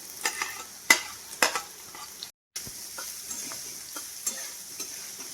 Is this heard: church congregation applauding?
no